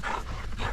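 Dogs panting briefly at 5:45 in the morning after being let out at a riverside waterfront camp, a short burst of breathy, rapid panting close by with soft whimpery tones.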